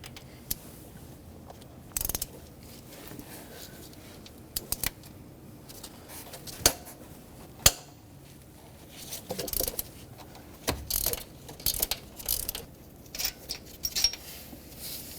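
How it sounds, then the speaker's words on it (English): Ratchet wrench loosens the 14mm starter bolts on a 2006-2010 Hyundai Sonata 2.4L, sharp scattered clicks and clanks of tool on metal close by, in irregular bursts over a quiet background. "There are two 14mm headed bolts holding the starter on. One is this one, the other one is that one. Let's break them both free and remove them."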